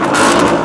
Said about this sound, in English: Mustang, let's hear you.